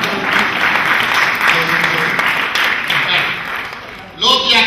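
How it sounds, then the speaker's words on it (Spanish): An audience at a lecture in San Antonio Oeste bursts into sustained applause, a dense, loud wash of clapping that holds steady before easing off, and a voice speaks at the end. "un aplauso para los burros"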